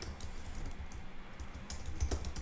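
Typing on a computer keyboard, a quick, uneven run of soft, close key clicks and taps with no talking.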